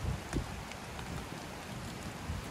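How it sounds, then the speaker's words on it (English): Steady rain patters on surfaces at a stormy campsite, a continuous hiss with a few louder drops and low wind rumble underneath, no voices. "The rain."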